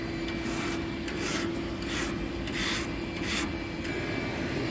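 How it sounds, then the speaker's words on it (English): A tool scrapes along the fins of a leaking Goodman condensing coil in repeated rasping strokes, close and steady over a constant background hum. "let's scrape it down. Or scrape it up like this."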